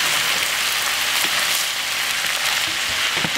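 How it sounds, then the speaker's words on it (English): Ground meat, onions and zucchini fry together in a pan, giving a loud, continuous sizzling hiss with small crackles throughout. "we're going to let it all fry together for just a little while until our meat starts to"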